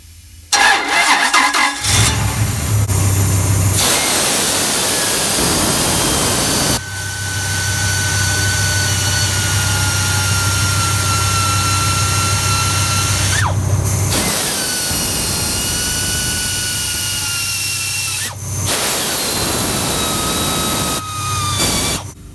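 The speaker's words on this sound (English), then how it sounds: "That's about 3 passes with a die grinder, and I just use the red scuff pad." A die grinder fitted with a red scuff pad resurfaces a flywheel. It gives loud, high whining passes with steady tones, broken by short stops and restarts.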